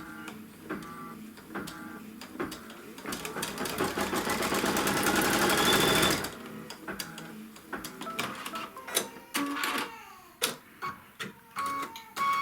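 A sewing machine stitches a quilt seam through fabric, its rapid mechanical whirring running steadily for several seconds, then broken into short stop-start bursts with clicks and handling noises.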